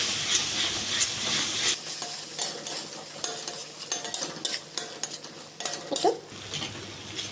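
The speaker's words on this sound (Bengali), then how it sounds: "এবার দেবো টক দই, এটা দিয়ে ভালো করে একটু কষিয়ে নেব।" Soybean curry with yogurt is sautéed in a pan, with a moderate sizzle and irregular spoon scrapes and clinks against the metal as it is stirred.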